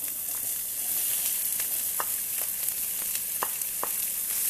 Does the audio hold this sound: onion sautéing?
yes